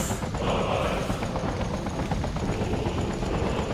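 An enemy helicopter in a shooter game beats steadily overhead, a dense, loud, rhythmic rotor thrum that carries on without letup, with sporadic distant gunfire mixed into it.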